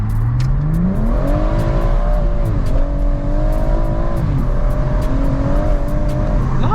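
A BMW M140i with traction control off pulls hard in first gear, its engine note climbing in repeated surges and dips close by and loud, with faint ticking over the steady roar.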